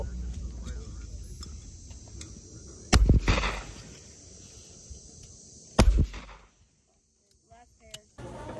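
Two sharp, loud shotgun blasts a few seconds apart at an outdoor clay target shooting range, each with a short echoing tail, over light wind and background noise.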